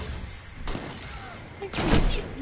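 A sudden loud gunshot from a video game bursts out over a steady background of game noise and faint voices, with a softer thud just before it.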